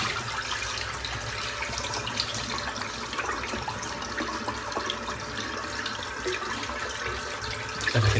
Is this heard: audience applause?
no